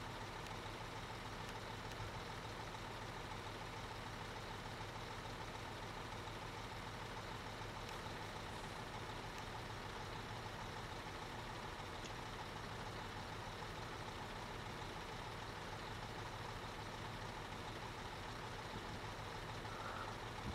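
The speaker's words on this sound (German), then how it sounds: "Da fahre ich halt mit dem Bagger hierher." An excavator in a construction simulator video game drives along with a steady, quiet engine drone and a low rumble that holds evenly throughout, with no talk over it.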